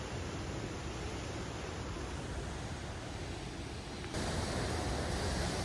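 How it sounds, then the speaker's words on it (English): Trümmelbach Falls pound inside the mountain as a dense, unbroken roar of crashing water, loud and constant with no pauses, swelling slightly louder near the end. "These thundering falls make for an immersive experience."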